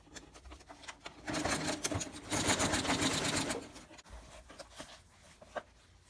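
A sewing machine stitches a leather zippered clutch bag, quiet handling noises giving way to a run of rapid, rhythmic stitching that stops abruptly, followed by faint clicks and rustles nearby.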